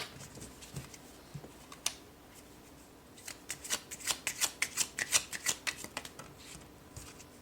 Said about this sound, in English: would you like me to pull more cards out of this deck?